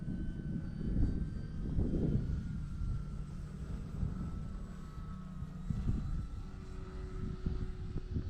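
An E-flite Cherokee RC airplane's electric motor at three-quarter throttle on a windy day, a steady droning whine mixed with wind buffeting on the microphone, fairly even and continuous.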